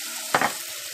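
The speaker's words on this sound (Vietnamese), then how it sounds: "Mình nấu cho nó sôi lên nha." Fish sauce, sugar and minced chili hit a hot pan with one brief sizzling burst over steady frying hiss, part of a garlic fish-sauce roasted peanut dish.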